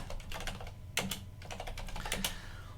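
A burst of quick keystrokes on a computer keyboard, close and clear, with rapid irregular clicks and a couple of heavier key presses, no voices.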